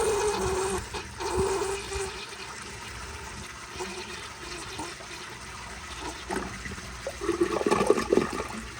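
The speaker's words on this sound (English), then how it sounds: "But here is another flush," A 2010 American Standard Baby Devoro toilet flushes up close, giving a steady rushing swirl of water that surges louder near the end.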